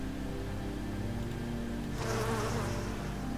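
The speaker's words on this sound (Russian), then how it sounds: "Вот он звук пчелок." Bees at an apiary in the video game Life is Feudal give a steady, close, continuous buzzing drone that swells slightly louder near the end, with no talking.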